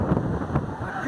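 Strong wind buffets the microphone at the top of the lighthouse at Kovalam beach in Thiruvananthapuram, a steady low roar with gusty swells throughout.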